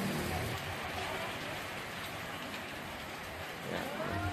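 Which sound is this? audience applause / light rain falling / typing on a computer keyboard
light rain falling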